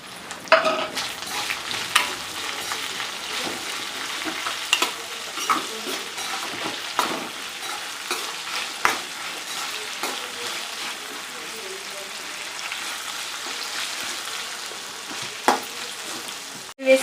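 Coriander seeds, cumin and fenugreek dry-roasting in a pan for a tomato coriander coconut chutney, giving a steady close crackle with repeated scraping stirs and a few sharp clinks throughout.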